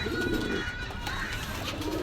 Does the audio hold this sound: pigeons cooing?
yes